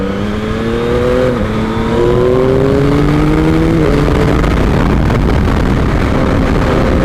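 A Yamaha MT-09 motorcycle accelerates hard while overtaking on the road home, its engine note climbing through rising gear sweeps and shifts, loud and close with wind roar building.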